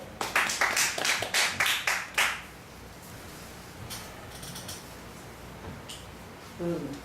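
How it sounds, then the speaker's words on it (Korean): A church congregation claps to welcome a pastor: a short burst of rhythmic, distinct claps for about two seconds, then quiet room tone with faint sounds and a voice near the end. "양마태 목사님 박수로 모시겠습니다"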